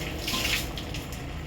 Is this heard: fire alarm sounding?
no